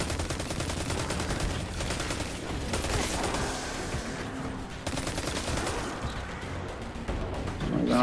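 Dense, continuous rapid gunfire and impacts from Destiny 2 gameplay, loud and layered with game effects throughout, without a break.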